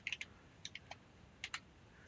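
A computer keyboard clicks in short, quiet bursts of a few keystrokes each, separated by pauses, with no voice over it.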